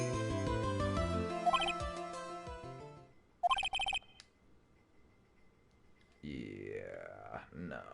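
A phone in the Phoenix Wright: Trials and Tribulations video game rings with a melodic tone that is cut off by a brief burst of buzzing, followed by quiet and then a voice speaking.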